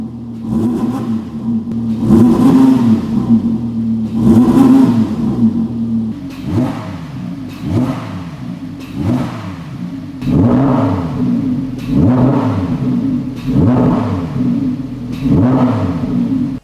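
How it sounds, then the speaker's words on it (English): An Audi R8 with a Milltek OPF-back exhaust revs repeatedly, about eight sharp blips rising and falling over a steady idle rumble, loud and close, with no voices. "let's show you what the Milltek OPF-Back exhaust system sounds like"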